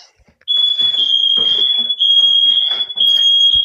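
A Nest Protect smoke alarm sounds in a house, a loud, piercing, steady high tone broken by short gaps in a repeating pattern, with voices talking underneath.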